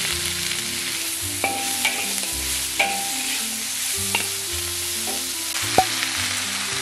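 Ginger and garlic stir-fry in a pan for black vinegar pig's trotters, with a continuous sizzle broken by several sharp clinks as the spatula strikes the pan.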